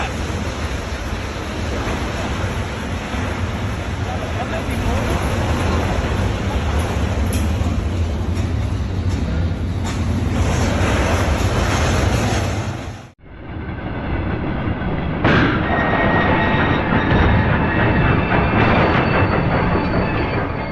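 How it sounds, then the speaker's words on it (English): A runaway railway tank wagon without a locomotive rolling along the tracks, a steady loud roar of wheels on rail with rushing noise, briefly dropping out before resuming with faint clicks. "Before it finally came to a stop, the tank wagon rolled several kilometers without a locomotive."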